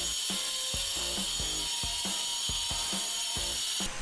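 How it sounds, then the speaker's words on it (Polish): Hammer and chisel strike glazed wall tiles, knocking them off a wall for a light profile installation, giving a regular series of sharp close hits about every quarter second over a constant high hiss. "I wykułem płytki młotem."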